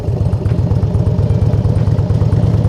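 A motorcycle ridden slowly at low speed, its engine a loud, close, steady low thumping rumble with rapid even pulses throughout and no let-up.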